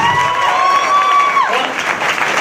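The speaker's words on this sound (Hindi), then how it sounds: "एक बार तालियां हो जाए मेरी बहनों के लिए और मेरे भाइयों के लिए" Seminar audience in Damoh claps for the sisters and brothers present, a brief burst of applause that swells after a piercing whistle-like tone drops away, with faint voices mixed in.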